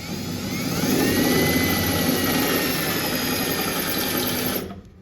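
Power drill boring a pilot hole with a kit drill bit while fixing a lower front fender bolt, a continuous whining motor drone held for several seconds before cutting off abruptly.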